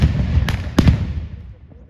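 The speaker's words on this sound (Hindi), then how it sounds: "दोनों रूम में डेटोनेट फेंका गया और जोरदार बम धमाका।" A loud bomb blast at a CISF security demonstration, heard as a few sharp booming cracks in quick succession, then a fading rumble.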